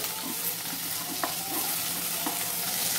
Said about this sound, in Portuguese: Vou deixar dar uma fritadinha, tá, pessoal? Uma fritadinha básica.